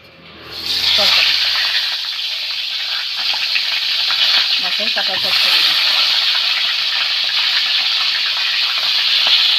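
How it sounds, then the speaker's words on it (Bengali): Catla fish head frying in hot oil gives a loud, steady broadband sizzle and hiss that starts about a second in and stays dense throughout, with faint stirring taps near the middle. "মাথা ভাজা হয়ে গেছে তুলে নিচ্ছি"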